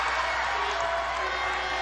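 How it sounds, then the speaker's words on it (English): Crowd at a basketball game in the Cuneta Astrodome cheering and roaring steadily, a dense, sustained wash of voices filling the arena with no clear breaks. "The crowd getting all riled up here"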